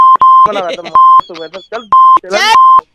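Sharp, loud electronic beeps repeat in short steady tones while a voice talks between them, the kind of bleeps heard when a phone call drops during a prank call.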